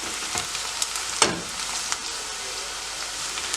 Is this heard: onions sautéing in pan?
yes